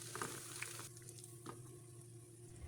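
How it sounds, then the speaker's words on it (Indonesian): Anchovies fry in oil in a wok, giving a faint, steady sizzle with occasional soft crackles and stirring scrapes, and no voices. "Selanjutnya goreng teri."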